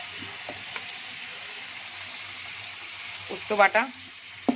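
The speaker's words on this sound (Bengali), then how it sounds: "এখানে মা আলু দিয়ে দিয়েছে, আলুটা ভাজা হচ্ছে।" Potatoes fry in a pan in a home kitchen with a faint, steady sizzling hiss, and someone talks briefly near the end.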